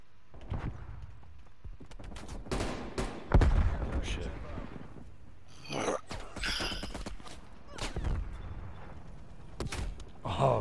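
Gunfire in Call of Duty on the Nuketown map during a hardcore domination match: a scatter of sharp, punchy shots in irregular bursts, with players' voices talking between and over them.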